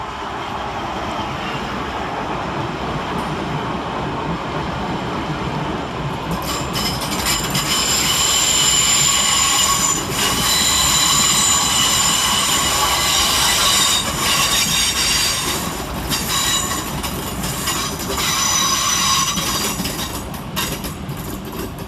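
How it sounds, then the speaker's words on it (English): Southeastern Class 465 and 466 electric multiple units run through London Waterloo East station, giving a loud, steady rumble of wheels on rail with squealing and rattling throughout, growing louder midway. "London Waterloo East with 465-029, 466-034 and 465-909, working the 1219 Southeastern service from Gravesend to London Charing"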